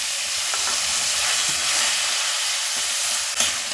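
Hog plum pickle bubbles in sugar syrup while being stirred, a constant loud simmering hiss with occasional soft scrapes of the spoon against the pot.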